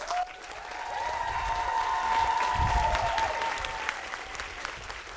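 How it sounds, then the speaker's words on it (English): Audience applause for medical students at a university medical school induction ceremony, a steady, sustained clapping from a large crowd lasting throughout, moderately loud with no voices over it. "Please join me in giving all of these students a round of applause."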